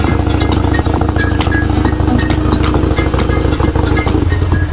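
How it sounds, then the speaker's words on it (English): A Harley-Davidson Evo V-twin motorcycle with a Gallop 2-into-1 Mighty Comet exhaust idles with a loud, steady, lumpy rumble, uneven pulses thumping continuously at close range. "My beautiful 2-to-1 Mighty Comet exhaust by Gallop, doing that Evo dance beat."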